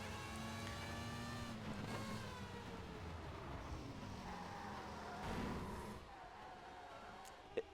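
Race cars roar around Donington GP in TOCA Race Driver 3, a steady engine drone with rising and falling pitch sweeps as the car accelerates and shifts, with a brief louder burst near the end.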